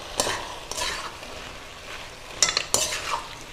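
Sliced eggplant is stirred through a thick tomato gravy, with a few wet scraping strokes of a spoon against the pan over a low simmering sizzle.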